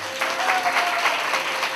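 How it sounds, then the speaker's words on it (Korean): An audience claps in steady, dense applause at a youth acting contest award ceremony in a school hall, moderately loud and continuous without a break. "여러분들 뜻깊은 박수 부탁드리겠습니다."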